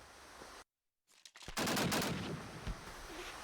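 Gunfire in the video game Rainbow Six Siege during a competitive match: a short shot, a moment of silence, then a loud burst of rapid automatic fire that continues with sharp individual shots.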